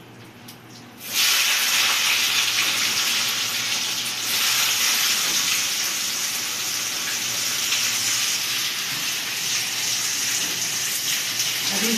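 Onions sizzle and fry loudly in hot oil with a pinch of hing for chhola, a steady close hiss that jumps in suddenly and keeps on with light stirring.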